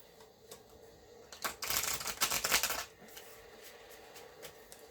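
Tarot cards are riffled and shuffled on a lap in a quick burst of crisp flutters lasting about a second, with quiet handling before and after.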